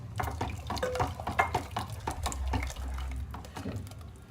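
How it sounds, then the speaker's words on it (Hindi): Water is poured from a glass into a pot of kaleji masala, mutton liver cooked with spices, giving a near, splashing pour with clattering knocks of the glass and pan over a few seconds. "अब इसमें हम 1 गिलास पानी डाल देते हैं"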